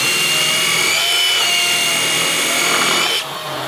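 A power drill with a different bit bores into a board, a loud continuous whining grind that drops off sharply near the end, no talk.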